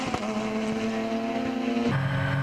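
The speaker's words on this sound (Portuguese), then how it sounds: "de carona com Ricardo Zonta, despejando potência no motor de 260 cavalos no carro da Sprint Race" A Sprint Race car's 260 hp engine roars onboard at Interlagos while climbing the Café section, a loud, steady high drone that drops in pitch near the end.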